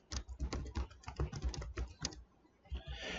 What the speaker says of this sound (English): To have it accept this, I want to hit the tab key.